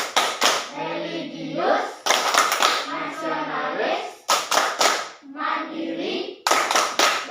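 A school class does rhythmic group clapping in bursts, with sharp claps in patterned sequences and children chanting words in unison between them.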